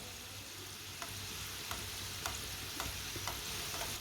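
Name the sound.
homemade roll cooking in a pan on the stove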